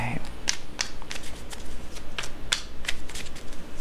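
Tarot cards being shuffled during a reading, a series of crisp riffling flicks and slaps in uneven bursts, close and fairly loud, with a voice talking alongside.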